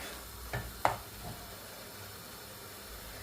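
Crab masala sautéing in a pan gives a soft, continuous sizzle with a few brief clinks and stirring scrapes near the start, close by, and no talking.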